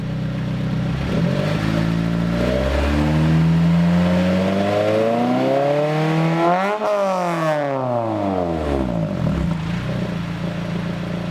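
Inside a Honda S2000 fitted with a single exit exhaust, engine drone fills the cabin while cruising, its pitch rising and falling smoothly through gear changes with a sharp dip and recovery midway.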